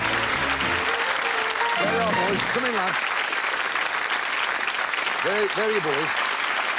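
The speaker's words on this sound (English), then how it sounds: "Give them a round of applause." Steady applause from a TV game show studio audience fills the whole stretch, loud and continuous, while a host's voice talks over it welcoming two contestants.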